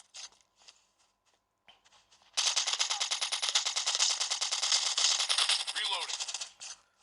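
Sustained rapid gunfire in the Call of Duty Mobile video game, a dense automatic burst running for several seconds after a quieter stretch of scattered clicks and faint sounds.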